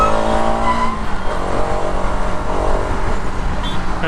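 A 2020 Bajaj Pulsar RS 200 motorcycle engine revs steadily and loudly up close, with a continuous high, smooth drone that holds for several seconds without a break.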